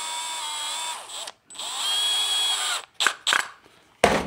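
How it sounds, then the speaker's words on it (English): A cordless driver spins up in several bursts as it tightens a bolt onto a hand-held nut during electrical circuit work for a washer and dryer: two long whirring runs, then short quick pulses and a final blip, close and fairly loud. "I hold the nut with my finger in the back here while I take my cordless driver"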